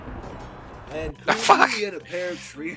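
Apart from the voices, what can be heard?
sneeze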